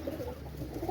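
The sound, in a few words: cooing of Pakistani high-flying pigeons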